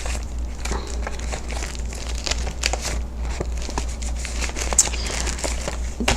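Paper envelopes handled on a craft table, close crinkling and rustling with scattered soft taps and shuffles throughout, no talk.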